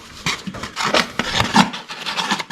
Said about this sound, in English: Just got to get the wrench on it.